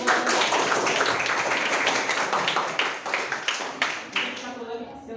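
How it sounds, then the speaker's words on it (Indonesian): Hands clapping in a classroom group, a loud burst of many claps that thins toward the end into scattered, distinct individual claps before fading. "tepuk tangan"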